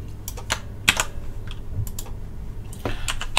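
Fast, uneven typing on a computer keyboard, with crisp clicks, a few heavier keystrokes and brief pauses. The sound is close and on its own.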